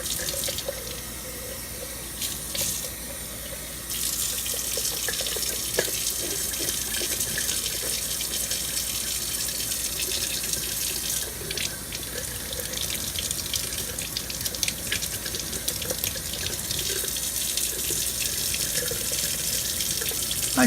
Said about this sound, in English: I'm going to give them one more rinse.